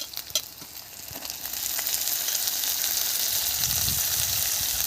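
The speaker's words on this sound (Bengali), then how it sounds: "মাছগুলো এখন আমি একটু ভেজে নেব।" Soaked dried fish frying in a pan with ginger and garlic, a few sharp scrapes and clatters at first, then a loud, steady, close sizzle that fills the rest.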